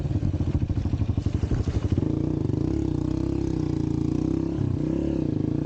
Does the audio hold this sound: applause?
no